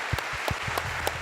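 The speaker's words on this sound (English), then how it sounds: "a round for applause for Thomas Nelson" Scattered claps from an audience at an executive conference, thinning out into a few sparse, separate hand claps rather than a full ovation.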